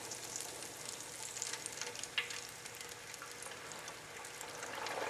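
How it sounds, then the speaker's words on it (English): Fish fillets in a fry basket sizzle in hot oil, a quiet, steady crackling hiss with small pops, close by and alone. "we're going to slowly lower them into the oil so it doesn't splash"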